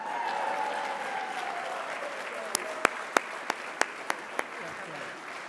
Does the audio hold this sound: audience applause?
yes